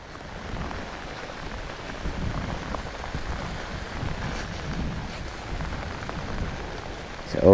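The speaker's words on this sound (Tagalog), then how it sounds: "At lalong lumalakas yung ulan." Steady rain falls on a flooded tomato field during a typhoon, a dense broadband wash with wind buffeting the microphone and no voices, swelling slightly toward the end.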